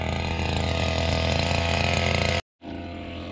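A petrol grass cutter engine runs steadily at high revs, a loud buzzing drone that cuts out abruptly near the end, then restarts at a lower idle.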